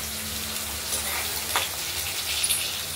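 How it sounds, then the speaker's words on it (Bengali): Chopped onions fry in a karahi, giving a steady close sizzle and crackle with a few brief louder pops, with no talking. "ভেজে নিই, তারপর মশলা দেবো।"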